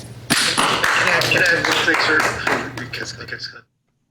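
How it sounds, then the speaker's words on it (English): Several people clapping together in a Zoom meeting, a dense and loud round of applause that runs for about three seconds and then stops abruptly. "everybody started clapping"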